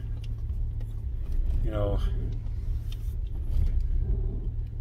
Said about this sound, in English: And I'm in my truck. I'm driving.